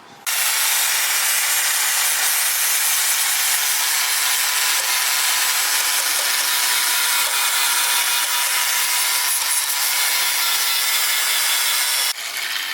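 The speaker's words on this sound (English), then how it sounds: "With the wire wheel, it takes it off right away." Wire wheel scrubbing rust off a Honda Civic engine block, a steady harsh abrasive whir that runs loud and continuous for about twelve seconds before cutting off.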